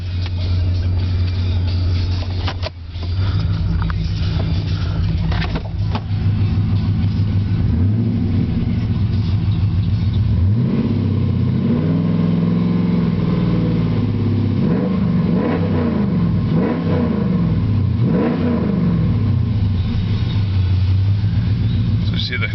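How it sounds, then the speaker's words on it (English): A car engine idles then revs repeatedly outdoors after leaving a garage, with rising and falling rev sweeps building in the second half, loud and close, and someone talking over it. "I can rev it up a little."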